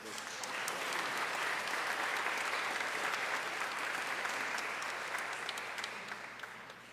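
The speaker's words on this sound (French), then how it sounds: "On l'applaudit une deuxième fois." A church congregation at a parish in Gatineau breaks into sustained applause, a dense even wash of many hands that swells and holds, then slowly tapers at the end, heard from within the room.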